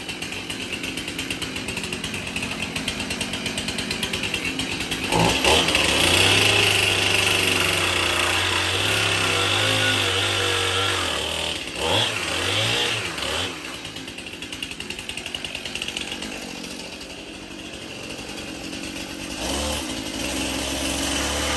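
A chainsaw runs continuously at close range, its engine whining and bogging as it cuts, with a few brief dips in pitch.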